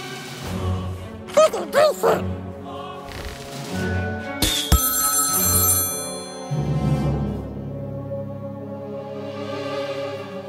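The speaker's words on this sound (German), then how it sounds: "Telefon." A telephone rings in the South Park: The Stick of Truth video game, a few bright chiming rings mixed with game sounds, music and voices.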